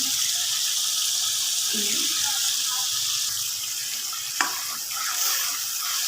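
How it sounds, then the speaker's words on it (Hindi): Masala with coarsely crushed cumin and black pepper sautéing in a pan, a soft steady sizzle with occasional stirring scrapes and one sharp clink of the utensil partway through. "अब ये सब अच्छी तरह से इसकी भुनाई कर रही हूँ।"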